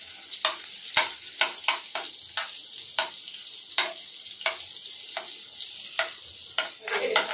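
Butter goes into hot oil in a pan for a mushroom dish, giving a continuous close hiss of sizzling punctuated by repeated sharp clicks and taps of a utensil against the pan.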